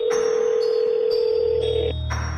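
A phone call being placed sounds as a steady, loud electronic ringback tone that holds level for about two seconds, then drops as the line connects, with a faint hum beneath and no talking.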